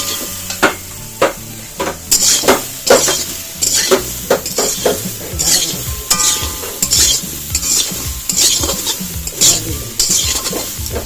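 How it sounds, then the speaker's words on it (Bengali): A spoon scrapes and clinks against a pan while salt and turmeric are stirred into a sizzling dish, the rhythmic stirring strokes loud and close over steady frying. "তো এই যে লবণ আর হলুদটা দিয়ে দিলাম, এটা একটু মিক্স করে নিই।"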